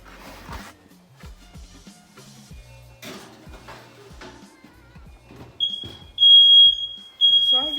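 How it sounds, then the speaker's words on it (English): Smoke alarm beeping in an apartment kitchen while ribs and mac and cheese are being cooked, with sharp high electronic beeps arriving near the end after quieter clattering and movement. "So have you heard that beeping?"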